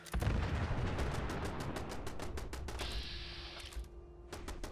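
Defensive turrets in a video game fire rapid bursts at an attacking tank bot, loud repeated gunshot cracks in quick succession with booming impacts and a brief high mechanical whine in the middle.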